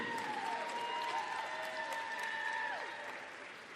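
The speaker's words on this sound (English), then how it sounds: "let's give a round of applause for our participants from Mars Hill and from Lander" Applause from the crowd at a college gymnastics meet between Mars Hill and Lander, a broad, fairly quiet wash of clapping that fades toward the end, with an announcer's tones faintly underneath.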